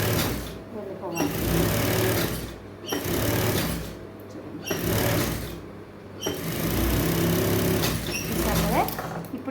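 A sewing machine stitches dori cord in steady bursts of whirring needle runs, separated by short pauses. The machine sound is close and loud, with a person speaking over it at times.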